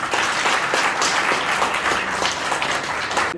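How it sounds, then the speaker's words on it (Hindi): A crowd at an International Yoga Day event bursts into loud, sustained applause, a thick, even roar of many hands close by that stays strong without a break. "जोरदार ताली"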